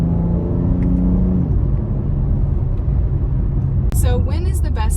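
BMW engine running after paddle-shift downshifts gives a steady, close cabin rumble whose pitch drops briefly early on; a voice speaks near the end.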